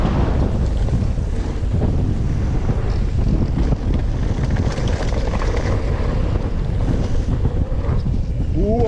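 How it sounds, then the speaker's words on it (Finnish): Strong wind roars and buffets the microphone continuously, a loud rumbling rush that never lets up, at a bike park. "Tuuli on kova."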